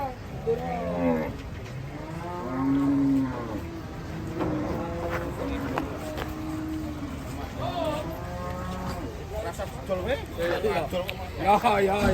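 A herd of cattle lows repeatedly, with several wavering moos overlapping. People talk over them the whole time.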